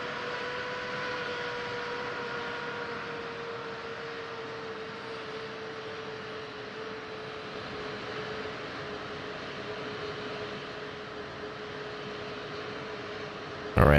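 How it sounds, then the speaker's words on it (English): An F-15E Strike Eagle in the DCS flight simulator spools up during startup, a steady whining turbine tone with a low airy hiss that holds evenly before a brief sharp noise at the very end. "you'll hear this amazing startup sound"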